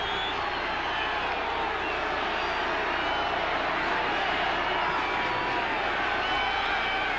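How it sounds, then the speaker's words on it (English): Large football stadium crowd during a 1986 Oklahoma State versus Nebraska college game, a sustained dense roar of disapproval rolling steadily throughout with no break, broad and loud across the whole span. "The crowd booing."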